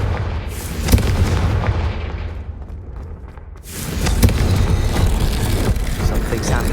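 A Confringo fire-blast spell in Hogwarts Legacy goes off with loud booming explosive bursts, followed by a brief lull and a second roaring wave of blasts and crackling impacts.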